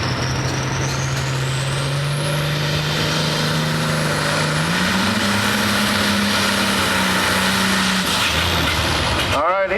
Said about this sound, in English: And he's driving Ray Norris's well-armed 4255 John Deere here tonight.